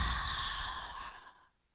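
A single long open-mouthed exhale during a yoga breathing exercise, a breathy rush of air that holds steady and then tails off into near silence, heard up close and alone.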